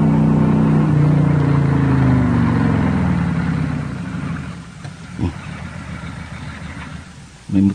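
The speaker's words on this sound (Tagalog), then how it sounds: "May motorsiklong nangabot." Engine of a motorcycle pulling in from nearby, a steady mid-pitched drone that gradually fades and settles, followed by a couple of brief knocks, with no talk over it.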